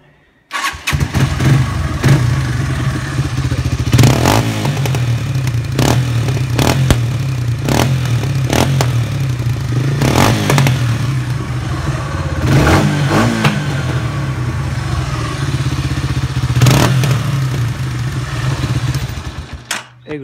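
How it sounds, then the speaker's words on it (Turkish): A motorcycle engine fitted with an exhaust idles loud and close for about twenty seconds, with a rough, steady note broken by several sharp revving bursts. "Hazır sıcakken egzozlu sesini dinletelim."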